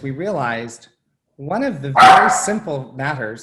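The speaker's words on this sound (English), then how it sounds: "excuse my dog" A dog barks once, sharp and close, cutting across someone speaking steadily in a quiet indoor room.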